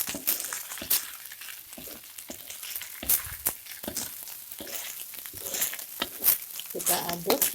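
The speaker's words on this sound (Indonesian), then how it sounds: "Kita aduk nasi goreng ini sampai nanti nasi gorengnya kering." Nasi goreng with egg is stirred in a hot pan, giving a crackling sizzle with repeated scraping and clattering strokes, close and fairly loud throughout.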